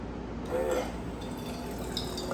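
Automatic water jug dispenser pumping water out through a hose, a soft steady trickle with a faint motor hum, quiet and unbroken.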